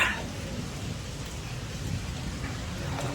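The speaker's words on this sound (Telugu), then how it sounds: "హైదరాబాద్లో వర్షం వస్తే ఇట్లుంటుంది" Heavy rain pours down in Hyderabad in a constant, dense roar of drops hitting surfaces, with no talking.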